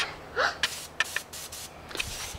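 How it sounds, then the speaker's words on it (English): Hobby airbrush giving short hissing sprays of air in quick bursts, close and fairly loud. "It's not the best one in the world, but it's an airbrush."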